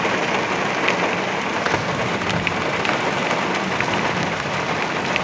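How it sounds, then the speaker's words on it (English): Heavy rain pours steadily during an August storm, a dense, loud and continuous hiss with scattered drop impacts and no voices. "just heavy rain now."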